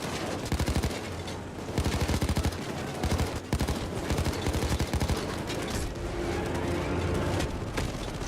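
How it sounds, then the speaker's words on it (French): Loud, dense gunfire from the video game Payday 2: rapid automatic bursts and overlapping shots hammer almost continuously throughout, close and heavy. "arrête de tirer"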